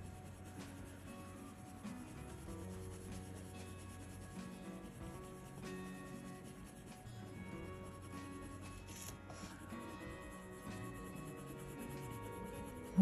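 A colored pencil rubbing in small circles on paper while coloring a Disney face, producing quiet, soft scratchy strokes that repeat unevenly, with faint background hum and no talking.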